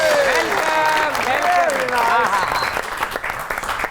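A studio audience on a comedy talk show claps to welcome film star Laila, a steady wash of applause while music with sliding melodic tones plays over it, fading slightly toward the end.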